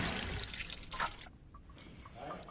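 A fizzy drink is poured into a cup, a faint liquid splash and trickle followed by soft bubbling, heard at low level.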